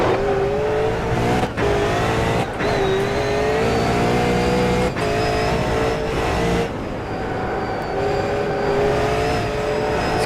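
A V8 Supercar racing engine in a racing video game howls loud and close, holding a steady high rev with brief dips at gear changes and no talk over it.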